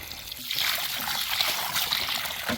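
Water poured onto the soil around a newly planted young elderberry tree, a steady close trickling and splashing that runs for a couple of seconds with no talk.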